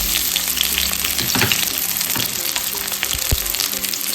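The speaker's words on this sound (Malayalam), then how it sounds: "നമ്മുടെ എണ്ണ ചൂടായപ്പോൾ നമുക്ക് ഇതിലേക്ക് സവാള ഇട്ട് കൊടുക്കാം" Sliced onions sizzle and crackle steadily in hot oil in a home kitchen pan, a close, continuous frying hiss with occasional sharper pops and a soft clink.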